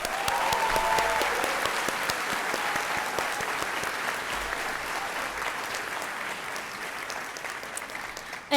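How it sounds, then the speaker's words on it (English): Loud, full audience applause at a university Department of Communication graduation ceremony, steady dense clapping filling the room and continuing without break until a sudden noise at the very end. "please join me in a nice loud round of applause"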